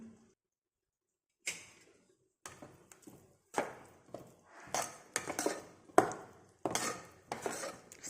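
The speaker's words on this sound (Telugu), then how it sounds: "ఇప్పుడు కొద్దిగా అలా లైట్గా కలుపుకుందాం" Ghee being lightly stirred with a spoon in a pan while making egg curry, a series of sharp metallic clinks and scrapes in uneven bursts, close and fairly loud after a brief silence.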